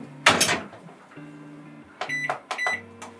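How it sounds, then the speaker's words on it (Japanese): A home oven is set to 40 degrees for proofing cinnamon roll dough: a sharp clunk, a steady electronic hum, then several short control-panel beeps, close by and fairly quiet. "これをオーブンで40度を40分やります。"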